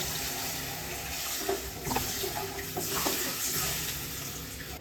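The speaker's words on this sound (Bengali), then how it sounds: "এরপর আমি অ্যাড করে দেবো জল।" Water is poured into a pan of fried spice paste for a Bengali-style pomfret fish curry, giving a steady rushing hiss that swells briefly midway.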